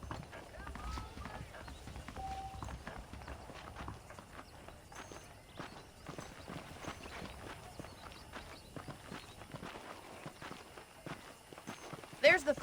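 Saddled horses clip-clop in Red Dead Redemption, the hooves making a steady, fairly soft trotting rhythm that continues throughout, with a louder thump right at the end.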